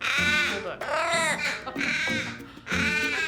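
A crow cawing loudly at close range while being handled at a vet clinic, giving several harsh, drawn-out caws in quick succession.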